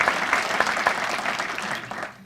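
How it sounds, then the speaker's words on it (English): An audience claps at a swearing-in ceremony for an elected official, a full burst of applause that holds steady and then tapers off quickly at the end. "go ahead and clap for the good man"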